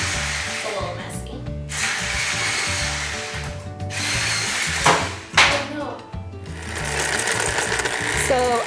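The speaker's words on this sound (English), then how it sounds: "So I've actually switched to a different hand mixer because this one has more than one speed and can go a little bit slower" An electric hand mixer creams butter and sugar for snickerdoodle dough, giving a steady motor whine with rattling, scraping bursts that stop briefly twice, while a voice speaks over it now and then.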